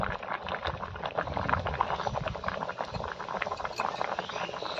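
A pot of half-boiled ingredients with baking soda added boils steadily on the stove, a dense bubbling and popping texture at a constant level with no talk.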